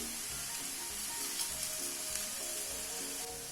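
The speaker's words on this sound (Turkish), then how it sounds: "Bir 10 dakika kavuruyoruz sebzelerle beraber." Tomato paste frying with vegetables in a pot for borscht, a close, continuous crackling sizzle with faint stirring underneath.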